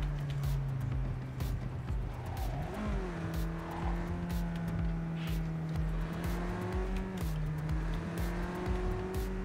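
Car driving in Cyberpunk 2077, a steady engine drone that shifts pitch a few times as it revs and changes gear, with tire squeal and clatter layered over it and someone talking briefly.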